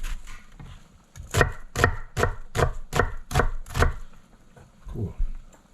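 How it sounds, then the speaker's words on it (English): A knife chops smoked herring and cod fish with onion on a board, landing eight brisk, evenly spaced thuds in a quick rhythm, close and loud, followed by a pause and a couple of softer chops. "So we're gonna chop this up again."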